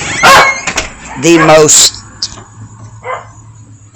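Dogs bark in a few loud, close bursts, with a person talking over and between them.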